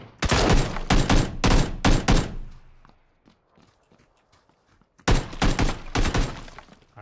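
Rapid volleys of rifle fire in PUBG, loud and close: a dense burst of repeated shots for about two seconds, a quiet gap with scattered faint sounds, then another sustained burst of fire.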